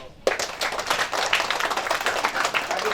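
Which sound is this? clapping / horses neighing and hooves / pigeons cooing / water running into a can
clapping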